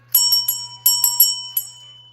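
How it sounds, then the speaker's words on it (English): A small bell is rung during a live rock and mineral sale, several bright quick rings in two bursts, close and clear, each decaying into a faint hum with no voices. "And Randall, since that's the last one, you get a bell"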